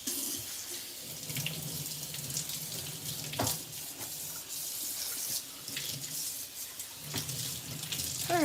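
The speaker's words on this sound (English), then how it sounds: "Let me wash my hands." Hands are washed under running tap water in a kitchen sink. Close, steady splashing and gushing continues throughout, with brief louder bursts as the hands move through the stream.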